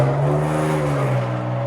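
A 2022 Dodge Challenger SXT all-wheel drive with a V6 and aftermarket exhaust idles steadily nearby, a deep droning tone with a slight dip in pitch near the end, with no talking.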